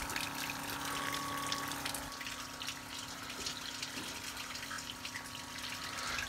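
Flopower FL-40 pressure pump drawing water from a garden hose, a steady low motor hum with a continuous rushing, splashing water stream throughout, fairly quiet and close, with no talking.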